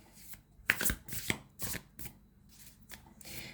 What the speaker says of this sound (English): I'm going to pull some tarot.